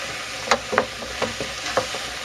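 Mushrooms and onions sauté in oil in a single pan for French onion and mushroom soup, a soft sizzle under a series of short, evenly spaced stirring scrapes.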